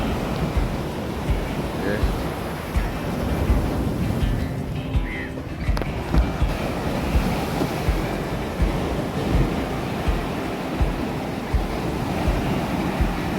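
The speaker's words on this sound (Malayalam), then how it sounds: "ഈ ഒരു ഏരിയയിൽ ഭയങ്കര തിരമാല ഭയങ്കരമായിട്ട് അടിക്കുന്നുണ്ട്" Strong sea waves crash and surge continuously onto the shore at Cherai beach in Kerala, a steady loud roar of surf with gusts of wind buffeting the microphone throughout.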